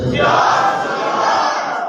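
A crowd at an Eid Milad gathering in an imambargah roars back a loud, sustained chanted response to a religious slogan, many voices merging into one continuous wall of sound that holds steady for the whole moment.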